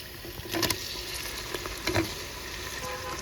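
Onion, ginger, green chilli and tomato fry in a pan for a chicken dish, a soft constant sizzle broken by two or three louder spatula scrapes and clinks; close, with no voices.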